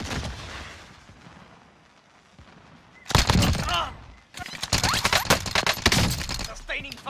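Sustained automatic gunfire in a multiplayer shooter on a map called Caldera, a loud burst of rapid shots after a quieter stretch, then continuing rattling volleys, with a voice talking over it.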